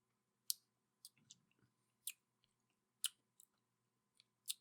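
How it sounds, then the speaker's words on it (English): Close, dry crunches of crunchy cereal being chewed mouthful by mouthful, in about half a dozen separate bursts with quiet gaps between them. "I hear the crunch."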